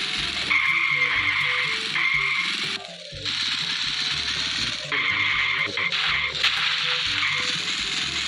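Tires squeal in long continuous screeches as a car skids in the Android racing game Cars in Fixa, with music and engine drone underneath and a brief dip where the car tumbles.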